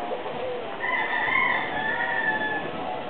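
A bullstag rooster crows once, a drawn-out, fairly close call that rises and holds before trailing off, over faint background noise.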